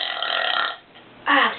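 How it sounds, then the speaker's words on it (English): Two loud, voiced burps in a bedroom, the first long and drawn out, then a short gap before a second strong belch close to the mic. "Burp, bounce, burp, bounce."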